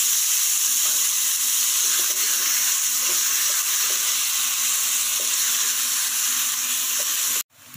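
Plenty of garlic sizzling in a frying pan for homemade chili garlic sauce, a steady, loud, hissing fry that runs unbroken for about seven seconds and then cuts off abruptly.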